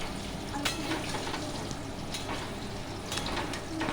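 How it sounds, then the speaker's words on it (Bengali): Salted cut potatoes fry in oil in a kadai, a continuous soft sizzle with occasional brief crackles and stirring scrapes, moderately quiet and unbroken throughout. "আলুটা ভেজে ভালো করে তুলে নিতে হবে।"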